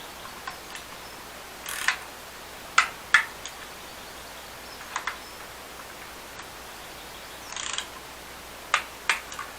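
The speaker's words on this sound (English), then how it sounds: "Get it done up and get the socket in there." A socket ratchet does up engine casing bolts on a salvage Honda CBR650R, giving sparse, faint clicks and short ratcheting bursts in a quiet workshop.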